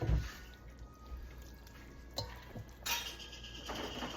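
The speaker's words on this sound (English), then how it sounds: "So, we're going to just keep adding our noodles in here." Cooked noodles are stirred into goulash sauce in a pot, giving soft wet drips, splats and light clinks against the pot. The sounds are sparse and fairly quiet, with faint background hiss and no talking.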